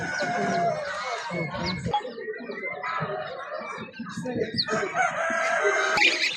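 Chickens cluck and a rooster crows at a busy poultry and chick market in Sabunchu, a dense, steady layer of fowl calls, with voices murmuring underneath.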